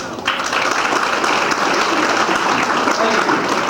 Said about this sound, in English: let's give the whole coaching staff a big round of applause